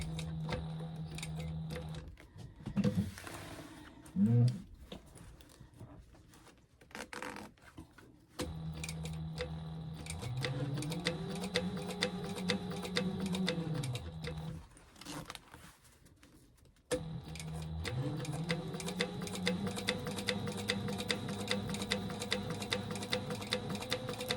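Sewing machine stitching a 1/8-inch seam across the top of a convertible tote bag, running in several rapid, rattling bursts separated by brief pauses, close and fairly quiet.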